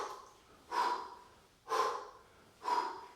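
Three sharp, forceful breaths out at an even rhythm about a second apart, close and fairly quiet, marking kettlebell swings; no talk over them.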